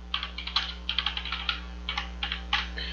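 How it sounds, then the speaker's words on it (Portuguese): Fingers type on a computer keyboard in short bursts of quick, crisp key clicks separated by brief pauses, close and fairly quiet with no talk. "Vou digitar aqui em 8"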